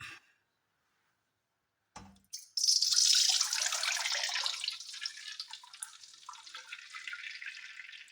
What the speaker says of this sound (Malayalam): ഇപ്പോൾ വെളിച്ചെണ്ണയിലേക്ക് നമുക്കിത് ഒഴിച്ചു കൊടുക്കാം കേട്ടോ.